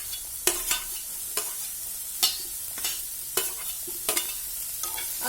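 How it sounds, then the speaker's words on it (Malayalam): Chopped zucchini is sautéed and stirred in a pan with a soft background sizzle, broken by repeated sharp scraping clacks of the spatula at an irregular pace. "ഇനി ഇതിനകത്തേക്ക് നമ്മൾ കട്ട് ചെയ്ത് വെച്ചിരിക്കുന്ന സുക്കിനി ചേർത്ത് കൊടുക്കാം"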